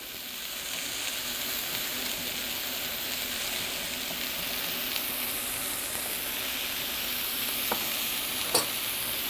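Mushrooms and onions sauté in a pan in a restaurant kitchen, giving a steady, dense sizzle that hisses without a break, with a couple of faint clinks near the end.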